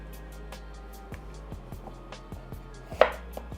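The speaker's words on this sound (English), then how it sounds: "Cut it into about 1 to 2 inch pieces." A knife chops vegetables into one- to two-inch pieces on a board, a series of crisp, evenly spaced cuts close by with one louder knock near the end, no talking.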